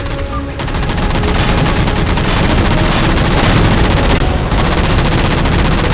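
Loud, relentless automatic gunfire from Halo 4 as jammers are shot down, a dense, continuous fusillade of rapid shots with barely a pause across the whole stretch.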